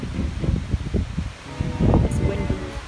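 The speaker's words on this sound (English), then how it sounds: "It's windy." Steady wind buffets the microphone with rustling, while people talk nearby underneath it.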